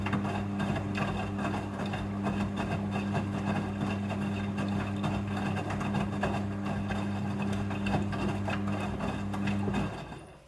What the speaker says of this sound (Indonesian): Air akan mengisi secara otomatis.